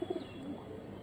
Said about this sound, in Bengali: সাপ চোখের কবুতর তো